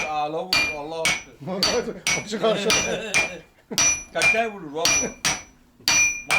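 A small hammer strikes repeatedly in a workshop, each blow a bright, ringing metallic clang. The hits come in quick irregular bursts, loud and close.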